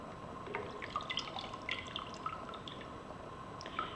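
Jars of home-preserved tuna in oil are lifted out of a pot of lukewarm water, dripping and trickling with small splashes and patters over a steady background hiss, close by.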